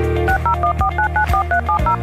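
Telephone keypad dialing tones, a quick run of about eleven clean electronic DTMF beeps in even rhythm, loud and close with no voices.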